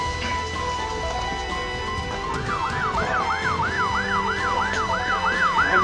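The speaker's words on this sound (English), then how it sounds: "Ambulance is outside." An ambulance siren wails in repeated rising-and-falling cycles, steady and fairly close, without talk over it.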